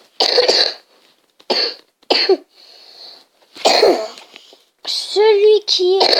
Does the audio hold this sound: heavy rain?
no